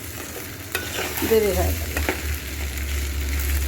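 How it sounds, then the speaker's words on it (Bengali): Rice sizzles as it fries in a pan for pulao, with stirring scrapes and crackling bursts up close while a voice speaks briefly over the cooking. "চাউলটা ভাজা করে নিলাম।"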